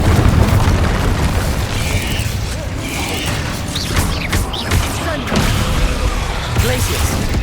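Dense, continuous magical blasts and fiery bursts from Confringo and Incendio spells in the video game Hogwarts Legacy, a loud rumbling wash of booms and crackles with mechanical clatter, steady throughout with no pauses.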